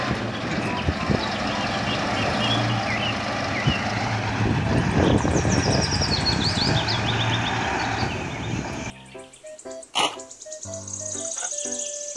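A toy dump truck rolls along amid a busy, noisy mix of steady buzzing and hum, followed by shorter mechanical beeps and clicks near the end.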